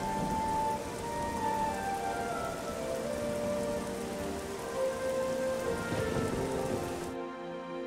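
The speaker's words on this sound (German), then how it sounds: "Frag mich, wenn ich einen Tag warte, ob der Regen dann aufhört." Steady rain pours down in the fantasy role-playing game Nehrim, a dense continuous hiss of drops hitting surfaces with faint tonal game music underneath, cutting off abruptly near the end.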